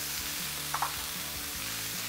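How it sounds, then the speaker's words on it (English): Steady, close sizzling of spinach frying in hot olive oil, a continuous crackling hiss with a brief clink partway through. "with some olive oil. Yeah. Sizzle"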